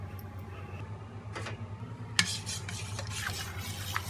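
Homemade grape juice being stirred by hand, with a few soft scraping and clinking strokes against the container at irregular moments over a low steady background hum, no voices.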